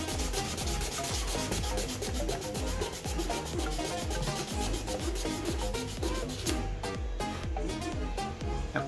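Fine-grit sandpaper scrubbing along a seam on a Captain Rex Phase 2 armor helmet, with rapid, steady back-and-forth strokes that are close and loud and run continuously without any talking.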